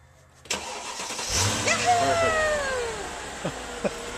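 A Ford car engine cranks and catches, then settles into a steady idle, with a sharp thump at the start and people talking nearby over the running motor.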